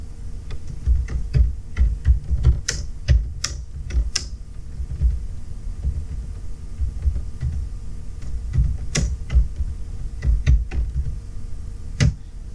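Sharp, sparse key clicks from a computer keyboard while typing a short sentence in Microsoft Word, bursts of taps separated by longer quiet gaps over a steady low background hum.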